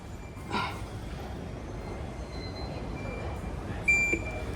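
A DLR light-rail train stands at a station platform, giving a low, faint hum with a brief clunk early on and a few thin, high electronic tones near the end.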